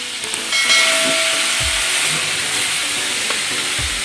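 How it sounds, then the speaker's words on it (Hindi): Chicken pieces for chatkhara boti drop into hot oil and set off a loud, sudden, sustained hiss and sizzle up close, holding steady with faint pan knocks underneath. "गर्म हो गया, हम अपना चिकन इसके अंदर शामिल कर देंगे।"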